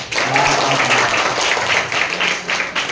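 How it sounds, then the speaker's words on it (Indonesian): Audience applause at a school outreach session, a loud, continuous wash of many people clapping, with faint voices mixed underneath. "Oke, tepuk tangan dulu."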